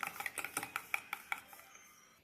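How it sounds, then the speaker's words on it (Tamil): Omelette batter with a pinch of asafoetida being whisked in a bowl: a quick run of about a dozen crisp, evenly spaced clinks and taps that soften and trail off, with no talking. "இப்போ இதை நல்லா ஒரு 10 செகண்டுக்கு இப்படி மிக்ஸ் பண்ணிடுவாங்க"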